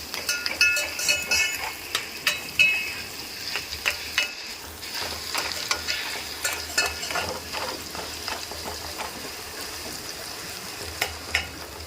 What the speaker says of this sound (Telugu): కొన్ని రొయ్యలు ఉంటే దాన్ని నేను ఆయిల్లో ఫ్రై చేస్తున్నాను